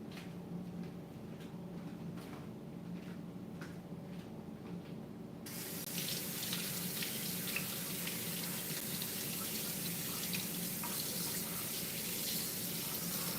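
A kitchen tap runs while kidneys are rinsed: a steady faucet hiss that grows into a fuller, brighter splash of water striking the sink partway through, continuing alone and close.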